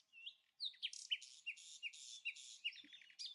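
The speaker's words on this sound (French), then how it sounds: "Les oiseaux chantent" Birds sing nearby in bright chirps and whistled phrases, repeated rhythmically in short bursts over an otherwise quiet background.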